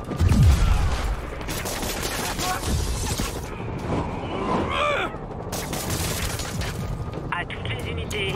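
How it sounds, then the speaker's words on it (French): Gunfire aimed at a police vehicle in a Spider-Man video game, a dense, chaotic stretch of shots and cracks with mechanical clatter that runs on without a break, as voices talk over it. "véhicule de police pris pour cible par des tirs ennemis"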